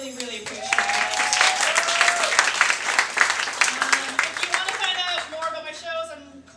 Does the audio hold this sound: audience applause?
yes